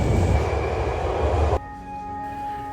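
A Hankyu Line train at Karasuma station in Kyoto, an underground platform, gives a loud rolling roar that stops abruptly, followed by a quieter hum with a steady tonal whine.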